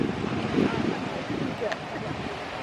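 Gusty wind blusters against the microphone outdoors at a pond at Apple Park, with faint water sounds beneath and a voice briefly audible.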